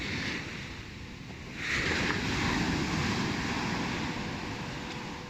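Steady rush of Ligurian sea waves breaking on the shore, swelling louder partway through, with wind noise across the microphone.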